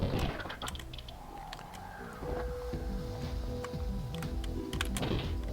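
Keys clack on a computer keyboard in a quick, irregular patter of close clicks, heard over steady low background hum and game music.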